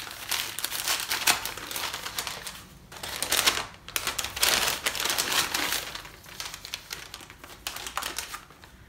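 Close crinkling and tearing of gift wrapping paper as a package holding a button maker is unwrapped, with bursts of rustling and crumpling that come and go irregularly.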